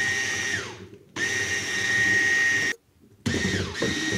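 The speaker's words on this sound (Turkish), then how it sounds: "İlk olarak kısa ayarında çırpıyorum. Daha sonra yüksek ayarında çırpacağım arkadaşlar." Electric hand mixer on its low setting whisking sugar and eggs in a bowl, a steady loud whirring motor hum that cuts out briefly twice and restarts, no talking.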